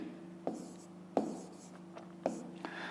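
A pen writes numbers by hand on paper during a fifth-grade maths exercise, three or four quick scratchy strokes in bursts, close and clear, with a voice murmuring softly underneath.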